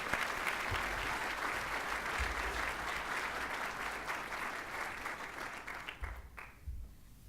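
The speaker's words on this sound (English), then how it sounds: "Please join me in welcoming the Director of the Center of Innovation for Logistics, Janine Miller." An audience at the Savannah Logistics Summit applauds to welcome a speaker, a dense sustained round of clapping from a large crowd that thins and fades toward the end.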